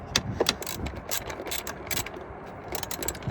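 Ratchet wrench clicking as a bolt is loosened on a Carolina Skiff JV17 boat, close and fairly loud, with bursts of rapid mechanical clicks and brief pauses between strokes.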